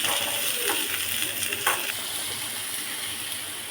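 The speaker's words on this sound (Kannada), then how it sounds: "ಸ್ವಲ್ಪ ಪುದೀನ ಇಷ್ಟನ್ನು ಚೆನ್ನಾಗಿ ಸ್ವಲ್ಪ ಫ್ರೈ ಮಾಡ್ಕೊಳ್ಳೋಣ." Mint leaves frying in a pan while cooking a country-chicken sambar, giving a steady close sizzle with a few brief clinks and stirring scrapes, no talking.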